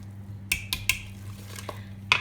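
A spoon clinks sharply against a bowl a few times while wholemeal banana cake batter is gently folded, with quiet pauses between the taps over a low steady hum.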